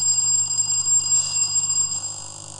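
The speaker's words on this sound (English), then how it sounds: "Which school rang the bell?" An electric bell rung by a contestant school at a Ghanaian National Science and Maths Quiz preliminary contest, a steady sustained ringing tone held for about two seconds.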